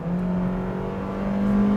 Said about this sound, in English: this 2-liter gasoline engine is said to have variable intake and dual variable valve timing